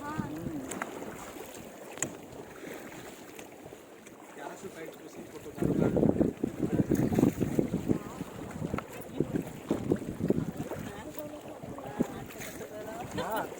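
A boat moves along the Kali River, with a steady whoosh of water and wind buffeting the microphone that swells louder partway through, while people chat in the background.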